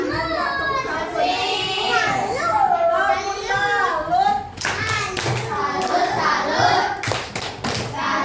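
Schoolchildren in a classroom perform a rhythmic group clap routine, a tepuk salut, with chanting voices and a few loud bursts of clapping and thumps, close and lively with a teacher's voice among them.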